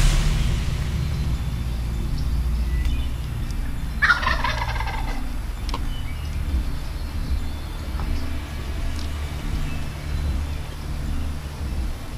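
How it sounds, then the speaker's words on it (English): A wild turkey tom near decoys lets out one loud, rattling gobble at moderate distance during a New York hunt, with a steady low rumble of outdoor noise throughout. "there's 2 toms strutting around my decoys"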